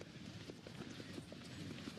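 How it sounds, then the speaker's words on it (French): Horses galloping toward the finish of a race in France, their hoofbeats a steady clip-clop rhythm running beneath the constant murmur and noise of the racecourse. "Ah, ces chevaux font l'arrivée."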